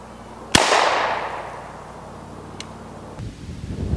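A homemade shotgun shell loaded with Nerds candy is fired at a pumpkin: one sharp, loud blast early on, followed by a long hissing decay and faint outdoor rustle, with no voices.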